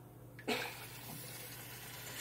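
Hot water gushes from a tap, starting abruptly with a burst and then running as a steady, quiet hiss of flowing water.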